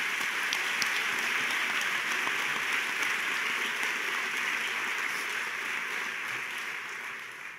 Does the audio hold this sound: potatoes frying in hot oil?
no